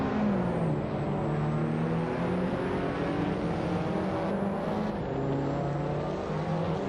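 A 2014 Suzuki Swift engine racing in a video game, a continuous loud droning whir with steady revs and slight pitch shifts as it holds speed, close and alone.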